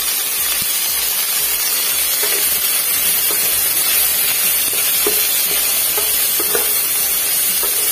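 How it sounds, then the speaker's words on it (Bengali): Sliced bitter gourd fries in hot oil in a pan, a loud, dense, steady sizzle that fills the whole stretch with crackling spatter and occasional stirring scrapes, close up and with no talking. "উচ্ছেটাকে আগে ভালো করে ভেজে নেব।"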